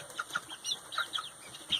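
Ameraucana chickens cluck softly in a coop, a run of short, scattered bird calls at close range, with no talking.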